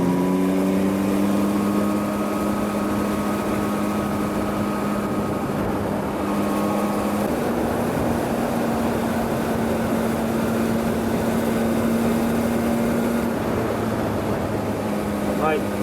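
Yamaha MT-09 inline three-cylinder motorcycle cruising on a highway, a steady continuous engine and wind roar throughout with a sustained tonal hum, while a rider talks over it.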